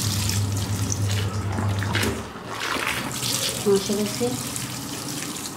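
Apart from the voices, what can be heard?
water running into a washing machine to wash a quilt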